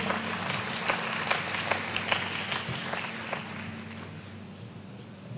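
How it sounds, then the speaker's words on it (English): An audience at a youth festival at Pyramid Valley International applauds: scattered, sharp hand claps over a room murmur that thin out and fade toward the end. "I would love to welcome Sanjana with a round of applause"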